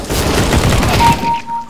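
Gunfire in the video game CS:GO: a dense rapid burst of close, loud shots fills the moment, then cuts off and fades.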